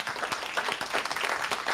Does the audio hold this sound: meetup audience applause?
yes